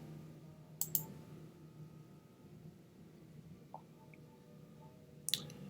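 Mouse clicks on a button in trading software: a quick double click early on, then another sharp click near the end, faint and close against a quiet room hum.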